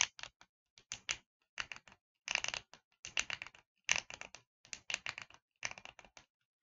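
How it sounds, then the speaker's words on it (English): Loud, rapid ratcheting clicks in short bursts from the swiveling shoulder joint of an AEW Unrivaled Collection Dustin Rhodes action figure, close up, with brief pauses between turns and no talking. "Ooh, that loud ratcheting."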